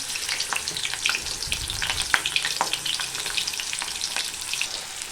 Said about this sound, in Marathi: हे बघा आता मिरच्या चांगल्या भाजून झालेल्या आहेत